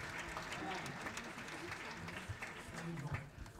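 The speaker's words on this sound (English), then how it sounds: "applause for Professor Younes once more" A conference audience at the Grenoble event marking the tenth anniversary of Muhammad Yunus's Nobel Peace Prize applauds Professor Yunus. The steady applause is faint and distant, with crowd murmur mixed in.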